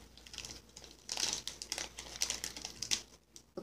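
Plastic packaging around toy stickers crinkling and rustling as it is opened, a busy stream of close, quiet crackles and small snaps with no speech.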